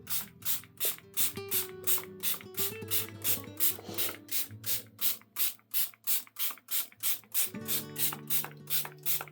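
Small spray bottle spritzing water during outdoor desert plein air painting: a long series of short, close hissing squirts in a quick, fairly even rhythm, with some clicks and soft handling noises underneath, no speech.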